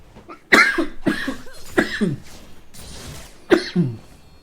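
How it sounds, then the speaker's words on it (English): A man's coughing fit: several harsh, close coughs in quick succession, each a loud burst with a short wheezy tail, spaced over a few seconds. "That was so bad, it sent me into a coughing fit."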